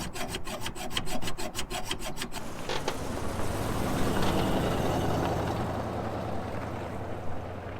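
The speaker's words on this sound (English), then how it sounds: "So I'm going to try to get in there with the hacksaw underneath and cut it off." A hacksaw cuts metal underneath a homemade bike, loud steady rhythmic strokes for a couple of seconds, then fading into a continuous rumbling, scraping background noise.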